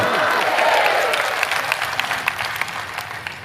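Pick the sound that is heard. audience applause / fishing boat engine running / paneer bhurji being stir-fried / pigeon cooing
audience applause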